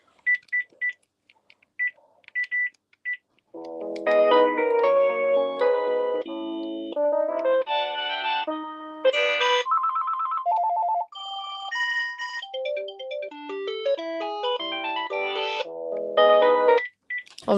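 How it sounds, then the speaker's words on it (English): Phone ringtones play one after another: a few short beeping tones first, then a long stretch of bright, melodic electronic tunes with brief gaps between them, loud and close with no talking. "Let's do the ringtones on this."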